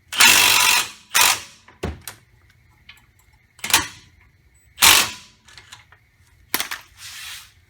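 A wrench tightens 17 mm bracket bolts on a 2013 Honda Civic during a front wheel bearing job: bursts of metallic ratcheting and clicks, separated by quiet gaps, close to the listener.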